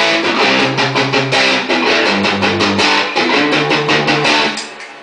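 Distorted electric guitar power chords, two strings each, ring out loud and thick in a rhythmic strummed pattern of changing chords, with no talking over them.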